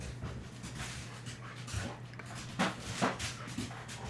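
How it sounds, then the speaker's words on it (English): A dog pants steadily nearby, breath rasping in a continuous rhythm with a few faint whimpers mixed in, as it waits to be let outside. "there's a dog that needs to go out"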